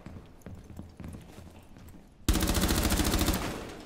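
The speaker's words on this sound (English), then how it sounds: "Yeah, I think he was the one shooting at me." Rapid automatic gunfire in the tactical shooter Rainbow Six Siege bursts in loud and close about halfway through, a dense sustained volley following quieter scuffing and movement sounds.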